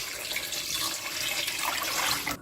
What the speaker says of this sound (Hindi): इसमें मैं डाल दूंगी 2 लीटर पानी।